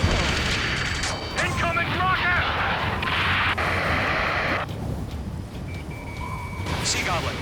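Rocket explosions in the combat flight game Ace Combat 7: Skies Unknown: heavy, booming blasts and rumbling bursts follow one another throughout, loud and dense, with game voices talking over them.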